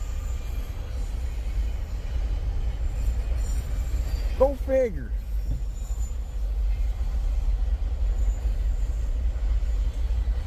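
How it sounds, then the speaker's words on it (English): An intermodal freight train rolls past with a continuous low rumble and rattle, a brief rising squeal of wheels midway through; a person speaks briefly near the start over the noise. "Oh, this looks like your typical junky looking intermodal,"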